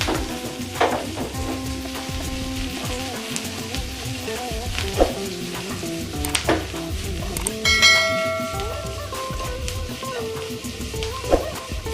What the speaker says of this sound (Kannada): ಇದನ್ನೆಲ್ಲನೂ ಒಂದು 2 ನಿಮಿಷದ ಕಾಲ ಒಂದು ಮೀಡಿಯಂ ಫ್ಲೇಮಲ್ಲಿ ಇದೆಲ್ಲ ಚೆನ್ನಾಗಿ ಬಾಡೋವರೆಗೂ ಇದನ್ನ ಚೆನ್ನಾಗಿ ಹುರಿಯೋಣ